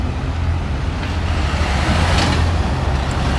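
Steady low rumble of heavy street traffic with delivery trucks idling and passing on a Williamsburg, Brooklyn street in the morning, a continuous loud drone with a slight swell midway and no voices.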